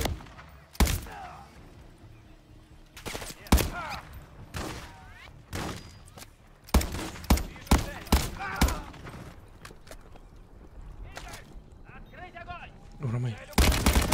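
An ERLMG machine gun firing in a Call of Duty: Modern Warfare III campaign mission: sharp, loud shots that come singly and in short clustered bursts, with quieter gaps between them.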